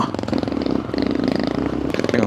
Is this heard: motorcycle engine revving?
yes